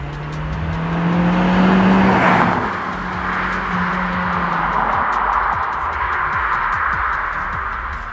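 A SEAT Leon Cupra R Mk1 with a turbocharged 1.8 engine (AUM, K03S turbo) driving steadily, its engine drone swelling briefly then holding an even cruising note under faint road and wind noise.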